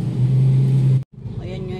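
A motorcycle engine drones loud and close with a low, steady rumble, then cuts off abruptly; a softer engine sound and faint voices follow.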